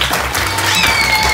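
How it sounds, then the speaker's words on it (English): A short, loud burst of audience clapping at a live children's science experiment show, with a faint tonal voice or whistle riding over the crowd. "Give her a big round of applause."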